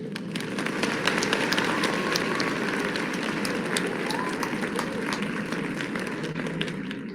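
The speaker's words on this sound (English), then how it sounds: "Round of applause for the architect of modern China, Deng Xiaoping" Applause from a large crowd, dense steady clapping that fills the clip at an even level, with a voice speaking over it.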